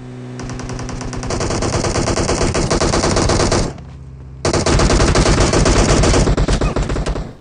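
Dense automatic gunfire from fights in the video game PUBG Mobile rattles loud and continuous, with several overlapping weapons firing rapid bursts, a brief lull in the middle, then heavy shooting resumes.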